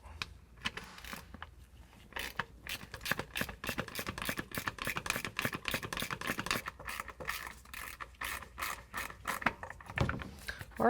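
Plastic bumper trim being pried off a 2019 Ram 1500 during a bull bar install: dense, close scraping, rubbing and sharp clicking snaps that continue without a break, with no talking.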